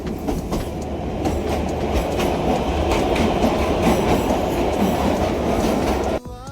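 Steady rumble and rattle of the Kalka–Shimla toy train rolling along narrow-gauge rails, heard from aboard, continuous and close, with a brief clatter of movement near the end.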